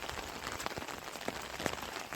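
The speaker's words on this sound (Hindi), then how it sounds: "अब तो बारिश हो रहा है" Rain falls steadily on surfaces outdoors in the hills, a dense, even hiss with scattered louder drops and taps, close and continuous with no voices.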